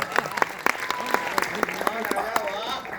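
Applause from a reunion gathering of former polytechnic college students, a steady patter of clapping with sharper claps standing out and some voices mixed in.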